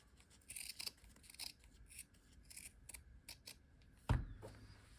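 Scissors snipping through fabric for a stitched circle piece, a series of quiet, crisp rasping cuts spread across the span, ending in a louder close thud or clack near the end.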